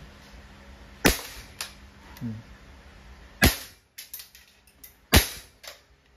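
An Umarex Walther CP99 Compact steel BB airgun fires three sharp, loud cracks spaced a couple of seconds apart, with smaller clicks and clacks of handling between shots and a brief murmur of voice.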